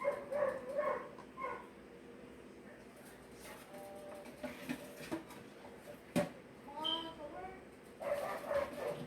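Several dogs bark and yip in short, scattered bursts, with some whimpering between them, fairly close by.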